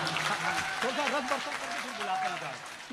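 Applause from an audience at a Hindi poetry recital, a steady wash of clapping heard under a voice speaking and chanting over it.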